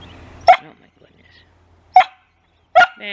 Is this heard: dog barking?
yes